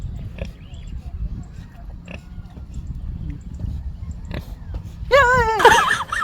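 Farm pig oinking and snuffling close by, low grunts under outdoor background noise, ending in a louder squealing burst near the end.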